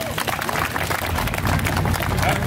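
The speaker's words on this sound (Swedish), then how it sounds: "En stor applåd!" Audience applause at the 2015 Harald Nielsen Memorial moped race in Hässelby, a steady wash of clapping from a crowd that swells slightly in the second half, with voices mixed in.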